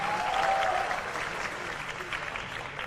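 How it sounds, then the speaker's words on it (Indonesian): Audience applause at a gathering of student council leaders in Jakarta, a steady clapping crowd that eases slightly after the first half-second, with a faint voice briefly audible early on. "tepuk tangan untuk ketua dan seluruh jajaran"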